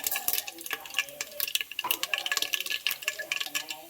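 Mustard seeds, cumin, chana dal and urad dal popping and crackling in hot oil while tempering for radish sambar, a busy run of sharp spattering pops close by.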